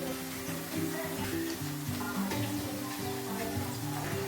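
Surul poori, the layered Bombay badusha sweet, frying in bubbling oil: a continuous close sizzle with fine crackling and bubbling, steady and fairly loud, with no talking.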